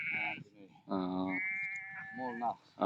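Sheep bleat repeatedly and close by on a shearing day in the Ziddi mountains. Several wavering calls overlap or follow one another, with people talking in the background.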